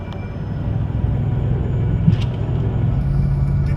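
A 4WD vehicle drives over smooth beach sand on Fraser Island, its engine producing a steady, close rumble with no talk.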